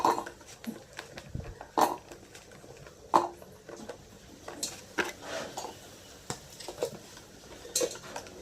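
Ginger being ground in a kitchen, irregular close knocks and scraping clatters of a utensil against a bowl, with short pauses between strokes.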